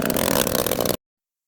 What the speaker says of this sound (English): I'm going to start the gen before putting the exhaust